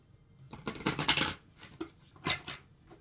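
Thick cardstock tarot cards are riffled and shuffled by hand, producing a few quick papery flurries and slaps, close and moderately loud.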